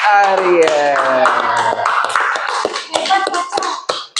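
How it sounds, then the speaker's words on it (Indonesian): A classroom of students claps hands after a teacher's voice, a scattered burst of close claps filling the second half and fading out near the end. "beri tepuk tangan dulu buat"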